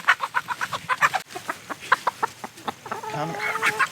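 Chickens clucking in a quick series of short, close calls, with a steady murmur of hens behind them and one bird holding a longer, higher call near the end.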